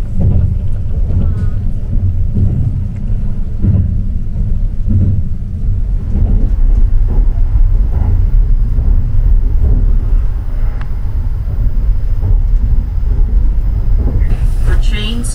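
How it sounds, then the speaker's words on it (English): A Japanese train on the Sunrise Izumo sleeper line rumbles steadily along the rails with a deep, continuous roar and a swell in loudness partway through, with no voices. "The train travels at a maximum speed of 130 kilometers per hour"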